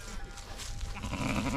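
A young lamb bleats at a farm during lambing season, one bleat rising out of close, steady outdoor farmyard noise, with no other sounds standing out.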